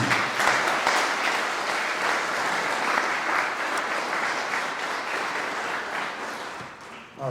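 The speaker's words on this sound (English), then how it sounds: "let's give her one more round of applause" An audience at an annual community loan fund event claps for an honoree in a sustained, dense round of applause from many hands that holds steady for about seven seconds and tapers off at the end.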